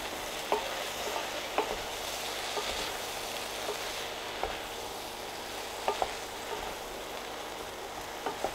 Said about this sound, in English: Give it a good stirring to coat the onions. Then in with the aubergines and coat those too.